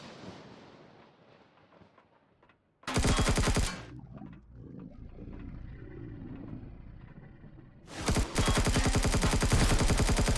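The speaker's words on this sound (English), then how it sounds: "I want to use up the rest of this assault rifle" An assault rifle in Empyrion Galactic Survival fires two loud, rapid automatic bursts, one brief and one longer, separated by a stretch of lower rumbling ambience.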